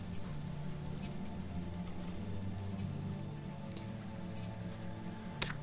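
Steady rain patter from the video game Sheltered, a continuous soft wash of drops on a surface with a low ambient hum beneath and a few brief brighter ticks, alone with no talking.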